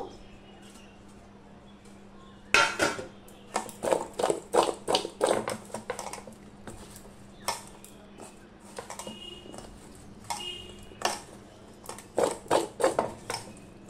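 Green mango pieces being tossed with salt on a large plate, heard as bursts of quick close taps and clicks that come in uneven clusters over a low constant background hum.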